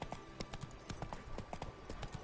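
Roach, Geralt's horse in the video game The Witcher 3, trotting with a quick, steady clip-clop of hooves, fairly close and continuous over a short stretch, no voices.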